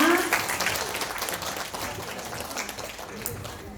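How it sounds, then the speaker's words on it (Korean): Applause from the congregation at a church middle-school youth service, a broad, steady wash of clapping that holds for a few seconds and slowly eases. "우리 들어갈 때 큰 박수로 축하드립니다."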